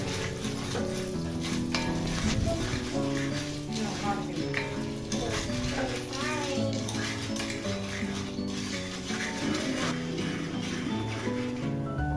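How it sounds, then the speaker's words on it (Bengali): Popcorn kernels heating in a pan with ghee and a little salt, a continuous sizzle with scattered sharp crackles and pan scrapes, while tonal background sounds run underneath. "আমার ছেলে কিছু পপকর্ন দিয়ে দিল এখন আমরা ভাজবো"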